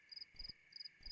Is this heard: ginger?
no